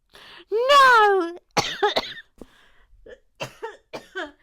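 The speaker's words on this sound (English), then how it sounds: "Oh, you brought on a coughing fit" A harsh coughing fit: a strained, wheezy gasp followed by several sharp, irregular coughs close to the microphone.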